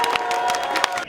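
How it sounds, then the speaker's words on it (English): A crowd at a tense Penn State campus event claps and cheers steadily, with mixed voices and shouts woven through the dense, sustained noise before it drops off abruptly at the end. "now let's give a round of applause again"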